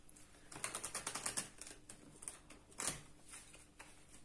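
Tarot or oracle cards being shuffled by hand, a quick run of soft riffling clicks followed by a few lighter taps and flutters, faint and close.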